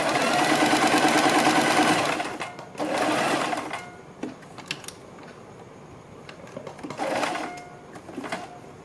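A sewing machine stitches a strip on a kurti, close up, in two or three loud running bursts of rapid mechanical whirring separated by pauses with quieter handling clicks, and no talking.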